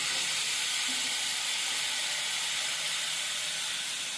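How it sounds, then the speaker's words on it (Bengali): Pumpkin frying in a pan while being stirred gives a steady, loud, broadband sizzling hiss that runs unbroken from start to finish, with no voices. "এবারে নেড়ে চেড়ে দিব।"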